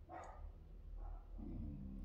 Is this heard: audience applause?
no